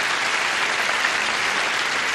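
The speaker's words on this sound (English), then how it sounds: "let's have some polite applause for Yosefa Tytel and Ensign Pete Shaner" A short burst of steady, even clapping from a game show studio audience, dense and moderate in volume, with no voices over it.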